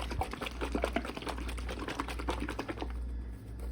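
A pan of cooking tomato and pepper soup is shaken, giving a continuous close rattling and sizzling bubble with rapid scraping clicks over a low hum.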